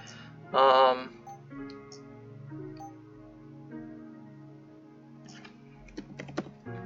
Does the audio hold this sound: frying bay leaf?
no